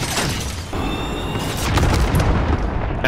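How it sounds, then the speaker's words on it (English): Missile strike in Call of Duty Modern Warfare, a loud sustained rumbling blast with crackling debris that swells and rolls on through the whole stretch, with no voices. "Let's go and drop this missile."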